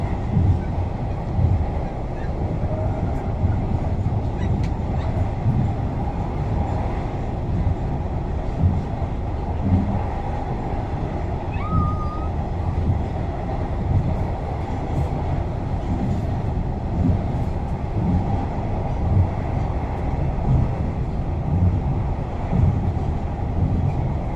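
A train rumbles steadily along an elevated railway track, crossing the Chao Phraya River in Thailand, for the whole stretch, a continuous low mechanical roar with faint rattling, fairly close and without voices.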